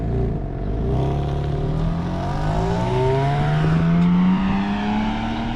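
A modified exhaust on a BMW G82 M4 with a valve controller holds the valves open, giving a steady, loud low rumble with slowly shifting tones, close by and continuous with no voices.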